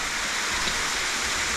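Waterfalls in the Sucha Bela gorge in Slovakia give a steady, dense rush of falling water, close and unbroken for a brief moment.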